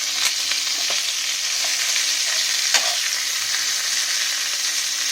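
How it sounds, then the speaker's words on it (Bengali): Hilsa and rohu fish heads fry in hot oil, giving a continuous bright sizzle with a few faint knocks and pops, close and steady. "মাছ নয়, ভুল বললাম, মাছের মাথাগুলো ভাজা হচ্ছে।"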